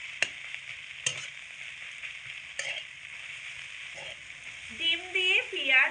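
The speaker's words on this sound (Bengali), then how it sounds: "এবার একসঙ্গে করে আমি পেঁয়াজের সঙ্গে মিশিয়ে নেব।" A spatula scrapes and stirs scrambled egg and onions in a pan over a faint, steady sizzle, with a few sharp clinks of utensil on metal and some brief background noise near the end.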